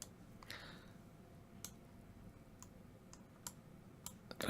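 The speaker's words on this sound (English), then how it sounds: "Just alt click on the wire itself." Sparse, faint mouse clicks at a computer desk, several sharp isolated ticks spaced irregularly over a quiet background hum, with no talking.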